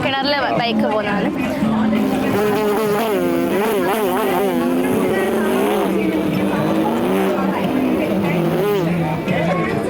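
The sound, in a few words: motorcycle riding in a well of death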